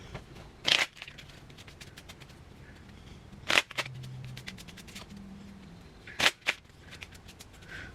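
Question cards shuffled by hand in three quick bursts, each a short crisp riffle and snap, separated by quiet pauses.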